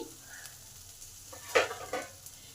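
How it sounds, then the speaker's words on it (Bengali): A spice filling paste for bean kachori fries quietly in a wok, with a low sizzle and a few sharp scraping stirs of a spatula against the metal. "এই পেস্টটা নেড়ে নেড়ে যখন দেখবেন কড়া থেকে ছেড়ে যাচ্ছে"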